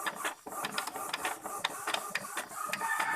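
An Epson L360 inkjet printer runs normally, its print head shuttling with soft repeated mechanical clicks and whirring in a steady rhythm. Quiet and close, with no voices.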